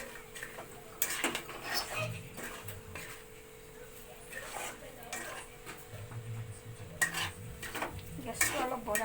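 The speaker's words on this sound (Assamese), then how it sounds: "অলপ লাৰি দিওঁ, নহ'লে মছলাখিনি লাগি যাব।" A spoon scrapes and clinks against a metal pan while spices are stirred for an Assamese pork curry, with irregular knocks and rattles over a soft sizzle and a faint steady hum.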